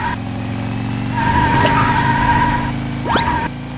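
A toy car racing around a track in the PJ Masks Hero Academy video game, with a loud, steady engine whine, a tonal hum and a brief squealing swoop near the end, set against a continuous game soundtrack.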